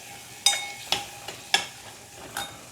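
Green beans stirred in a pan over low heat, with a few sharp scraping clatters of a spoon against the pan about every half second over a faint steady sizzle.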